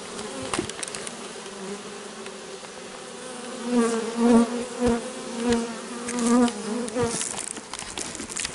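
A swarm of honeybees settled in an unusual spot buzzes loudly and continuously up close, with the droning hum rising and falling in waves.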